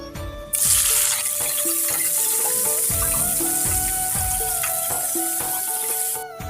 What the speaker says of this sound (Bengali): এখানে শাক ভাজা হয়ে গেছে